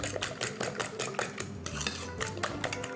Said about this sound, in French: Bien remuer.